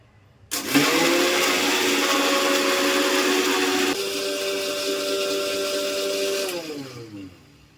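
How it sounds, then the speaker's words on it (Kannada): A mixer grinder whirs loudly and steadily as it grinds soaked coconut with its soaking water, the motor pitch shifting partway through before it winds down and stops; no talk. "ಈಗ ನೆನೆಸಿರೋ ನೀರನ್ನೇ ಹಾಕಿ ನಾನು ಅದನ್ನು ಫುಲ್ಲು ನುಣ್ಣಗೆ ಗ್ರೈಂಡ್ ಮಾಡ್ಕೊತಾ ಇದ್ದೀನಿ"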